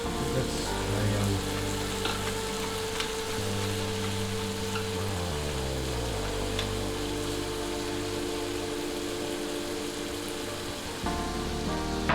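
Pork in tomato sauce, Filipino Kinamatisang Baboy, simmering in a pan: a steady, close sizzle and bubbling hiss that holds throughout beneath a low background hum.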